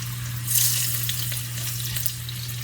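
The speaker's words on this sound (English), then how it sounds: "let's go ahead and start frying these" Steady, crackling sizzle of cube steak frying in a hot pan, with a low hum beneath and a brief louder burst of spattering near the start.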